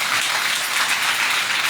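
Congregation applauding during a Holy Communion church service, a steady dense wash of many hands clapping together, loud and continuous throughout.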